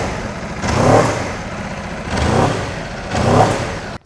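A 2019 Aprilia RSV4 1100 Factory motorcycle with a full titanium Akrapovic exhaust, revved three times in quick bursts that rise and fall between a close, loud idle.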